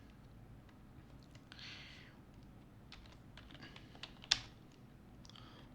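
Keys tapped on a computer keyboard while entering an email subject line in Mailchimp, soft irregular clicks in short bursts with one sharper louder stroke, close and quiet over low background hum.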